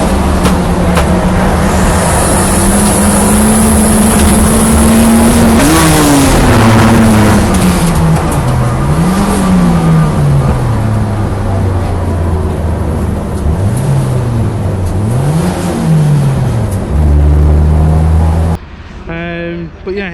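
A Nissan Micra K11 Superturbo race car engine at a time attack session on the Brands Hatch track, loud and close, revving up and dropping repeatedly through gear changes before cutting off abruptly near the end.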